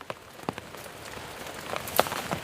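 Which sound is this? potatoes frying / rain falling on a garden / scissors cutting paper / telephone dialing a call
rain falling on a garden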